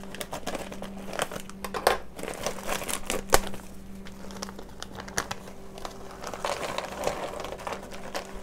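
Dry tortellini meal contents rattle and crinkle as they are poured from a plastic bag into a pot of boiling water, a continuous close rustle with scattered sharper clicks and a low steady hum underneath.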